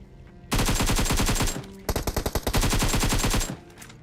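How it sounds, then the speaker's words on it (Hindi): AKM assault rifle fire in PUBG Mobile, played in Season 14 Conqueror ranked matches: two long, loud, rapid bursts of automatic shots with a short gap between them and a few separate shots at the start of the second burst. "AKM के अच्छे खासे 4-5 बॉडी शॉट पड़े हैं"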